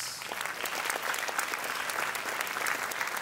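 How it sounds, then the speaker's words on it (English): An audience at a primary school sports awards ceremony in Bangkok claps steadily, with dense, even applause throughout and little talking. "we will still give her a big round of applause"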